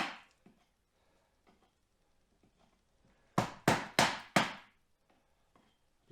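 A chisel prying a rusty clip off a seat frame during the strip-down of a 1991 Range Rover nine-seater: four sharp metallic strikes in quick succession near the middle, with faint scattered knocks before and after.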